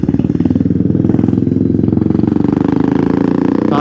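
A Royal Enfield motorcycle with an aftermarket silencer idles close by. It gives a loud, deep, steady thumping beat from the exhaust, then revs slightly at the end.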